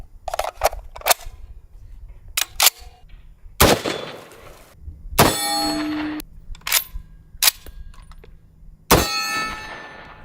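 Sharp metallic shots and clangs in a video game gunfight, said to come from a suppressed Mk 14 EBR rifle: a series of separate cracks, some with ringing tails, spaced irregularly and loud against a quiet background.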